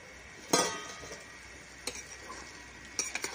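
Half-cooked vegetables including beans, carrot and potato stirred in a pot after the lid comes off, a few sharp scrapes and clinks over a faint low simmer, quiet and close.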